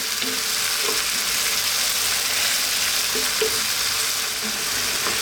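Fish curry masala frying in a pan over medium heat, giving a steady, dense sizzle that runs throughout with a few soft stirring clicks, close and fairly loud, with no voices.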